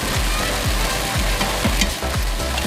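Beef sizzles in a stir fry as it is lifted out, a loud close sizzle with repeated rhythmic scrapes of a utensil in the pan roughly every half second, with no voices.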